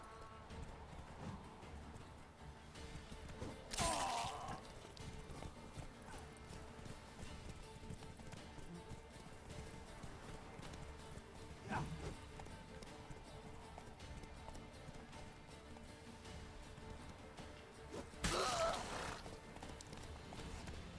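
Geralt's horse Roach in The Witcher 3: Wild Hunt, with steady hoof clip-clops and two brief whinnies, faint and mixed with game ambience and some talk.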